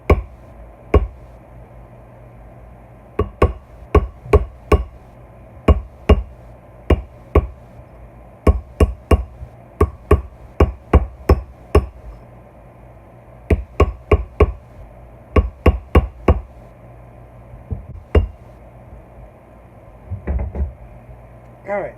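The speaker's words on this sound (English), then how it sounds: "I might take the hammer itself and ding it." Metal hammer striking a handmade ring of bullet casings and pipe, a series of sharp, close metallic dings in irregular bursts with short pauses, loud and alone.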